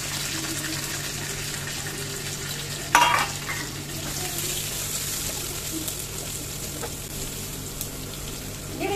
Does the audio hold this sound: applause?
no